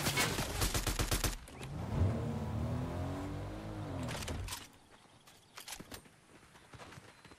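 Bursts of rapid gunfire from a solo battle royale video game, loud sharp volleys at the start and again around four seconds, with a vehicle engine droning between them and scattered fainter shots afterward.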